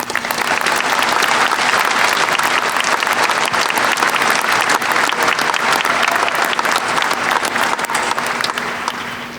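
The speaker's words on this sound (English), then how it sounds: "Let's applaud the graduates again now as a group" Sustained, loud applause from a large audience honoring graduates at a university winter commencement ceremony, dense clapping continuing steadily for the whole stretch before tapering slightly at the end.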